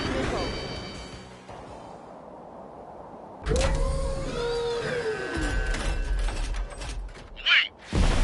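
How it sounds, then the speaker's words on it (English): UAV launching in the Ace Combat 7 video game: a quiet mechanical hum, then a sudden loud whirring surge with rising and falling tonal sweeps and clanks, under a voice speaking. "UAV is ready to launch."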